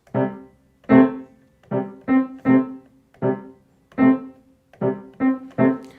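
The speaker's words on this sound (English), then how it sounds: "you play the same pattern on the piano" Short piano notes struck in a repeating rhythmic pattern, each decaying quickly, played close with pauses between groups and no voices.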